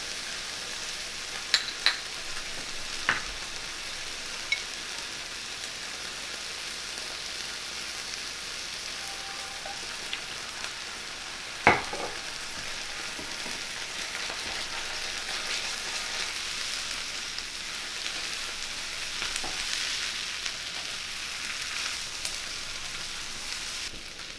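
Minced garlic sizzles in a pan for French onion soup, a steady soft frying hiss throughout with a few scattered sharp clicks and scrapes.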